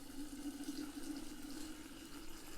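Spring water pours from a bottle nozzle into a jar, making a continuous, close trickling stream with a steady pitched ring as the jar fills, heard alone.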